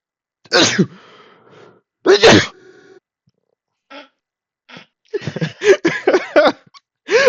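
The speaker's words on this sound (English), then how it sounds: "That was like an instant sneeze." A sudden, explosive human sneeze bursts out near the mic, followed by a second one about a second and a half later, with people chatting and laughing afterward.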